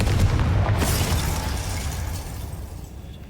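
Confringo blasting spell in Hogwarts Legacy, a single loud explosive boom at the start with debris crackle that decays and fades over about three seconds.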